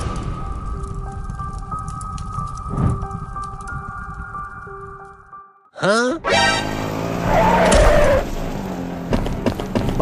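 A cartoon car speeds up with a rising whoosh and then skids, a quick swooping screech followed by loud bright scraping and rushing noise over a humming background.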